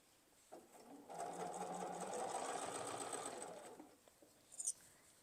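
A sewing machine with a standard presser foot stitches quilt binding in a steady mechanical whir that starts, runs for about three seconds and stops, close and fairly quiet, with a small click afterward.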